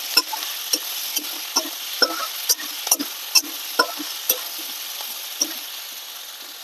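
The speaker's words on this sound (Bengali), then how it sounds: "ভালো করে আলুটা ভেজে নেব" Potato pieces frying with spices and salt in a home kitchen pan, a steady close sizzle broken by repeated sharp scrapes of a spatula stirring at a regular pace, with no voices.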